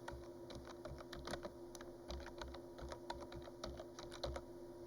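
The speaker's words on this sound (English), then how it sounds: "insert text box, and type your name" Steady, fairly quiet computer keyboard typing, a name being typed into a PowerPoint text box, with rapid irregular key taps over a faint low hum and no talking.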